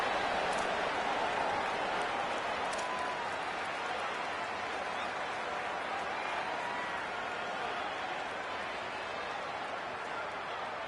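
Stadium crowd at a James Madison versus Troy college football game cheering a punt return, a steady broad roar and applause that holds throughout at an even level.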